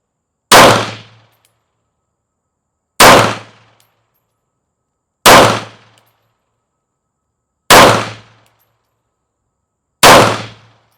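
Five sharp pistol shots from a Beretta Cheetah 80x .380 at a shooting range, each loud crack evenly spaced about two and a half seconds apart with a short decay, separated by near silence.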